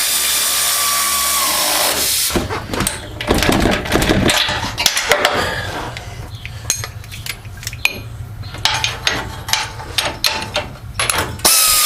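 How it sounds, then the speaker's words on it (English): A wrench tightening bolts on a 2012 Ford F-150 during ball joint, tie rod and brake rotor work, giving close metallic ratcheting clicks and clanks in uneven bursts, with no one talking. "I'm going to tighten those up with the wrench."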